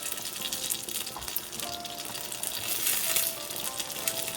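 Butter frying in a pan for Jamaican oxtail gravy gives a steady, close crackling sizzle throughout, with bubbling that swells slightly in the middle and no voices.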